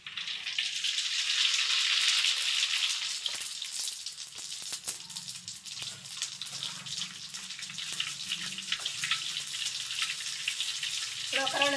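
Mustard seeds fry in hot oil, a loud, dense hissing sizzle at first that settles into a steadier crackle with scattered pops, while a voice is heard at times.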